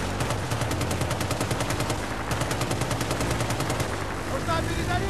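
Sustained automatic gunfire from the Battlefield Bad Company 2 demo rattles on in fast, even bursts, loud and close over a dense battle rumble, easing briefly near the end.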